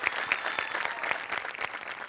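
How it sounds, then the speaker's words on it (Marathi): Sustained applause from a studio audience at a Marathi comedy show, cheering the costume and other departments; dense clapping fills the moment with no talk over it. "सगळ्यांसाठी टाळ्या"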